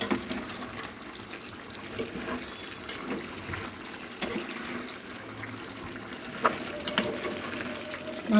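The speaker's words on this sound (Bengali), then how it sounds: "দিয়ে দিচ্ছি পরিমাণ মতো ঝোল।" Broth poured into a pot of meat and vegetable curry, a steady liquid splash and trickle running for several seconds with faint kitchen clatter behind, no talking.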